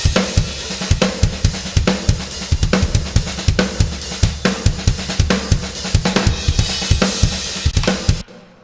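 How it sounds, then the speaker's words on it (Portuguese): A full drum kit processed with iZotope Neutron 3 mixing plug-ins for a bassist's session plays a steady, punchy groove of loud kick and snare hits with bright cymbals, ending abruptly in silence. "Esse aqui é o som da batera processado."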